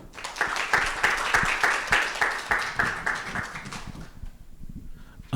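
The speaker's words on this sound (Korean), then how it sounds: "박수로 맞아주십시오." Audience at a Korean business forum applauding to welcome a speaker to the stage, rhythmic unison clapping with distinct regular beats that fades out after about four seconds into near quiet.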